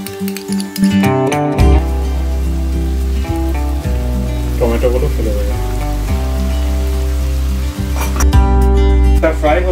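Ginger poured into hot oil, crackling and sizzling continuously like rain on a surface, partly masked by louder tonal background music throughout.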